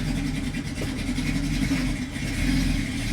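A Ford 200 inline-six with multi-port fuel injection idles steadily, a low continuous engine hum with a slight dip partway through as the revs settle, close and fairly loud with no talk.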